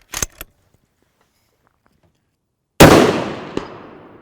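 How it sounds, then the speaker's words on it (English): A sharp rifle shot cracks loudly and rolls off into a long echo, and a faint metallic ping follows about three-quarters of a second later as the bullet strikes a 3/8-inch-thick RMA steel target plate 200 yards downrange. "I want to see if we can ring our steel plates at 200"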